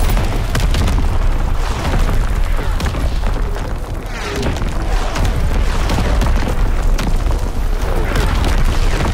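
Heavy artillery barrage in a WWII shooter: continuous loud, rumbling booms and blasts overlap into a dense roar, dipping briefly in the middle before swelling again, with voices talking underneath.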